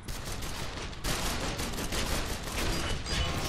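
Rapid gunfire from the video game Gotham City Impostors, a dense, continuous fusillade of shots filling the whole stretch at steady loudness with no talk over it.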